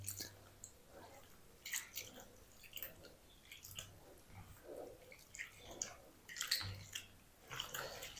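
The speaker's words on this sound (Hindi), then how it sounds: "अच्छी तरह आलूओं को मसल लिया है पानी के अंदर" Potatoes are mashed by hand in a bowl of water, giving soft wet squishing and squelching with light drips, quiet and irregular, with no talking.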